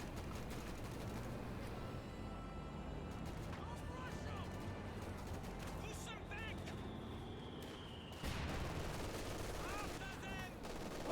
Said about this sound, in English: AT guns do fire